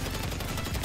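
A brief burst of rapid automatic assault rifle gunfire in GTA Online, dense and continuous, loud throughout the short moment.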